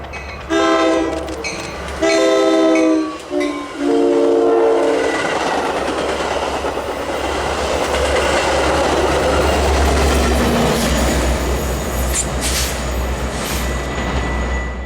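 A Metra commuter train passes at Roselle with brand-new SD70MACH locomotive 505 on the rear, opening with loud, close horn blasts that give way to a steady, heavy rumble and rail clatter as the cars roll by.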